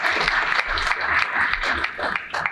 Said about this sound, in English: let's give a round of applause to our audience